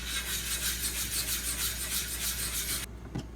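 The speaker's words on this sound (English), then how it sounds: "I'm going to pay a little extra attention on this 6K stone" A knife blade is drawn back and forth over a Pride Abrasives 6000 grit water stone in a steady run of smooth, rhythmic rasping strokes close by, which stop abruptly near the end and leave quiet.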